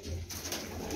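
Pigeons in a loft give a low, steady cooing close by, a continuous murmur from the birds lasting about a second.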